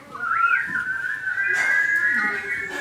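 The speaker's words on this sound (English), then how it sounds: "does anyone know how to whistle in here?" A clear, sustained whistled tone with a quick upward swoop at the start, then a steady held pitch that wavers slightly, fairly close.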